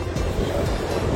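Sea waves wash onto the beach at Mandarmoni as a continuous low roar of surf, mixed with wind buffeting the microphone and no talking.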